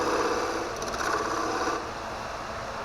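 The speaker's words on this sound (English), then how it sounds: "We'll chisel this little nub off and then do some sanding." Hand tools work a cherry burl wood block on a workbench, a steady close scraping and rasping of chisel and sandpaper across the grain, continuous and fairly loud, easing slightly toward the end with no talking.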